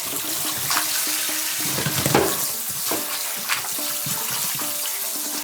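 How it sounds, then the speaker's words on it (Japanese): Pig bones being rinsed and scrubbed under running water for a ramen broth: a steady rush of water with wet clatter and handling noises up close, and no talking. "さらに何度か水洗いし掃除する"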